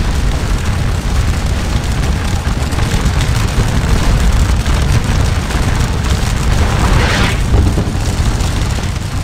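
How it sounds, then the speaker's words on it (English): Musket volleys in the Napoleonic battle game Scourge of War: Waterloo, heard as a continuous loud rumbling roar of massed fire with a brief brighter burst near the end, no distinct individual shots. "my men fire volleys into them"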